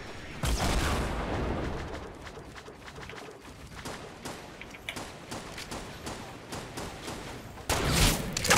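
Gunfire in the Fortnite video game plays as rapid bursts of shots, with a dense volley at the start and more at the end, and scattered single cracks in between over a faint ambient background.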